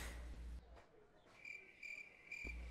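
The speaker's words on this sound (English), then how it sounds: "crickets" Crickets chirp in short, regular bursts as a comic silence sound effect, faint and close, following a brief bit of noise at the start.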